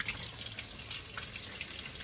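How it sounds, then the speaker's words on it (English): Cold water runs steadily from a bathroom tap, a continuous hissing splash with no pauses, close and moderately loud with no voices. "So I'm opening up all the cold water."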